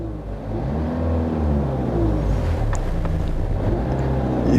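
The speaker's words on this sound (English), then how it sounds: "I'm gonna press the gas pedal" A car engine revving as the gas pedal is pressed, a steady loud drone with a rising tonal whine, mixed with wind-like rushing noise throughout.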